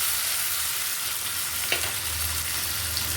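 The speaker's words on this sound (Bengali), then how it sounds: "আমি এখানে দিয়ে দিচ্ছি ছোট্ট ছোট্ট টুকরো করে কেটে রাখা আলু। আলুটাকে বেশ লালচে করে আমাদের ভেজে নিতে হবে।" Small pieces of potato fry in hot oil with a steady, dense sizzle that carries on throughout, plus one brief clink partway through.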